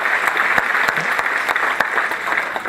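A stand-up comedy audience claps steadily, dense and close, for the whole stretch, with no voices over it.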